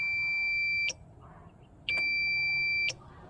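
An FKM Slick 150 motorcycle's alarm sounds two steady electronic tones, each lasting about a second with a short gap between, loud and close against faint background noise.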